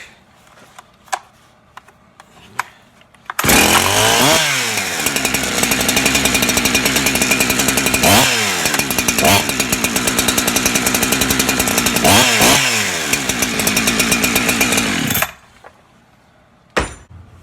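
After a few faint pulls, a Holtzfforma clone of a Husqvarna 372XP chainsaw roars to life and runs loudly for about twelve seconds with repeated revs, then cuts off abruptly.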